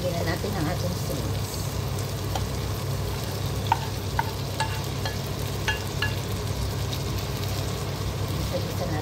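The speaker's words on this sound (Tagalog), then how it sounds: "ilalagay na natin ang ating shrimp" Shrimp frying in a hot pan with a steady, broad sizzle throughout and a few small crackles and pops, alone at moderate loudness.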